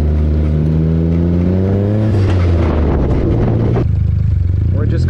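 A turbocharged car engine revs loudly up close while being brought to full operating temperature, its pitch climbing and then dropping away, with a rougher burst in the middle and a brief sputter near the end.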